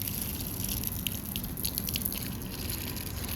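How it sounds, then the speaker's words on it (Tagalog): Water running steadily from a tap while someone washes their feet, a constant close splashing gush with small drips. "May tubig dito eh. Maghuhugas tayo."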